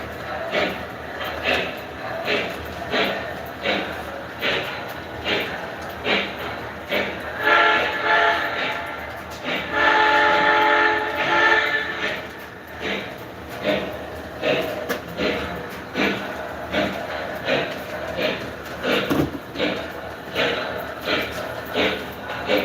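O scale model trains rumble along the track in a steady rhythmic clatter, with a horn sounding in the middle, close and moderately loud throughout.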